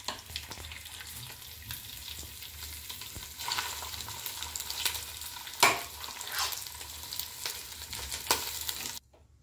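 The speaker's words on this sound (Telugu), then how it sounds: "మనం దీంట్లో రైస్ వేసేసుకుందాము." Cooked rice is stirred into browned tempering in a pan with a steady soft sizzle, while a spoon scrapes and clinks at irregular intervals up close. No one speaks.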